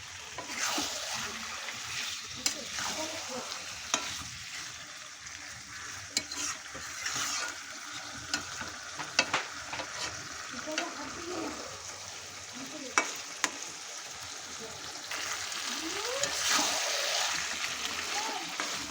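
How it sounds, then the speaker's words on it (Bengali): Mutton stir-fries in a pan with masala of ginger, garlic, onion and dried chilli paste, a continuous close sizzle with repeated spatula scrapes and clinks against the pan, occasionally under a speaking voice. "এখন খুব ভালো করে মশলা দিয়ে আমি নেড়ে চেড়ে কষিয়ে নেব"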